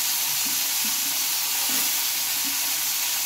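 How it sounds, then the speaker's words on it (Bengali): Chopped long beans frying in a pan with black cumin seeds and a dried red chilli, a steady loud sizzle and hiss with a few soft scraping stirs over it. "এবার কেটে রাখা এই বরবটিগুলো আমি দিয়ে নেব"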